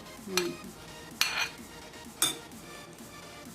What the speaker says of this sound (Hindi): अब इसमें ये पाइनएप्पल मिक्स करने लगी हूँ।